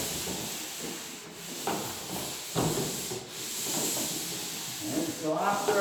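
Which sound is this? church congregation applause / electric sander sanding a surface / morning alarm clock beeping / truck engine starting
electric sander sanding a surface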